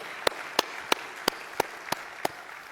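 Steady rhythmic hand claps during a church service, seven sharp, evenly spaced claps at a brisk pace with a quiet room between them and no talking.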